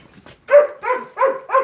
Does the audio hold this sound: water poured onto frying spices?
no